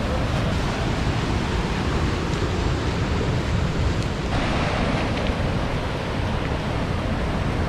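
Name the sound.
waves on the beach near the headland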